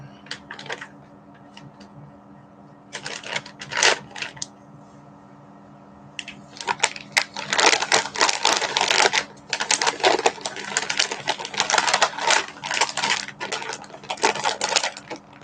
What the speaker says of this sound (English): Sorry about all the crinkly, Christmassy sounds.